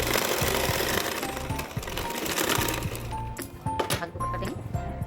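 A sewing machine stitching a seam along a folded edge with net fabric, running steadily with a fast rhythmic mechanical whir close by, then slowing into a few separate clicks near the end.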